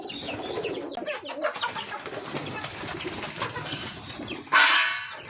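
A bali pigeon in a pigeon keeper's loft cooing in soft, low, repeated calls amid busy background rustling and bird noise, ending with a sudden louder, noisy burst.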